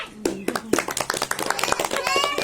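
A group of women at a community social assistance session clapping in a patterned cheer, a quick series of sharp claps mixed with voices calling out and chattering close by, short and lively.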